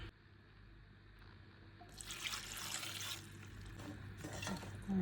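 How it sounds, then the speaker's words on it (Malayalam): Water splashes and pours steadily into a cooking pot of jackfruit, starting partway through and continuing quietly with a soft running trickle. "ഇനി ഇതിൽ വെള്ളം ഒഴിക്കാം"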